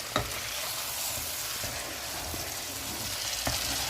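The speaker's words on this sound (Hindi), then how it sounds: "अब इसको हम थोड़ी देर तक भूनेंगे।" Chicken and spices sizzle steadily in a hot pan for chicken kabsa, a constant crackling hiss with occasional clinks of a spoon stirring.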